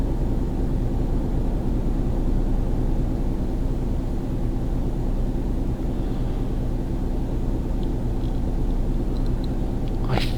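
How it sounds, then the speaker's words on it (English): A broad steady rumble of a plane landing overhead in the Euro Truck Simulator 2 game, continuous and even throughout, with faint higher whines near the end. "The plane landing on the bridge above my head was one clue"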